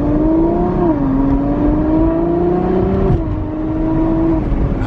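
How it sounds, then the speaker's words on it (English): Ferrari FF V12 under light quarter-throttle acceleration through a new X-pipe exhaust, a smooth steady engine drone whose pitch rises slightly and then eases, close and loud. "that's just a little baby acceleration. Quarter throttle and it already sounds way better"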